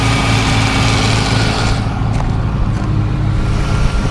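A 1957 Ford Thunderbird fitted with an LS Corvette engine runs loud and close, a steady deep rumble throughout with little change in pitch and no voices.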